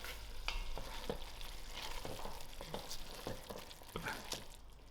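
Frozen peas are tipped into a pan of cooking vegetables for a vegetable korma and stirred through, giving a soft steady sizzle punctuated by a series of brief scraping and clinking strokes, with no talking.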